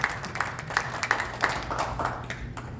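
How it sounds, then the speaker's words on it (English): At a Rotary Club of Winnipeg International Women's Day event, a smallish audience claps in sparse, distinct rhythmic claps, moderately close, with no voices over it. "Please, let's give her a round of applause."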